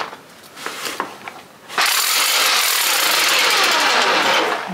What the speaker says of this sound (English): Quite a thickness we've got to drill through,